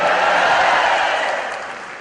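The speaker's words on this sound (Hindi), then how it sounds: "कुछ बच्चे तालियां भी बजा रहे हैं," Children clap at a mushaira, a brief burst of dense applause that stays loud and then gently fades.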